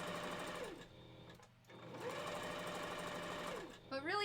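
A sewing machine stitching faux fur pieces together for a wolf costume head, motor whirring in runs that rise and fall in pitch, with a short pause midway and a final quick burst, close and clear.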